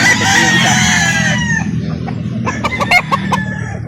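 A rooster crows loudly and close at a chicken market in Calauan, Laguna, followed by clucking and more crowing from several chickens amid a busy, noisy background.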